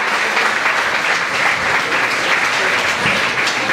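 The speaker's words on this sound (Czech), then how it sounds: "A velký potlesk pane Julínkovi" A hall audience at a town sports awards evening applauds steadily, a dense, even wash of many hands clapping close by with no voices over it.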